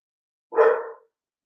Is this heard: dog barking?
yes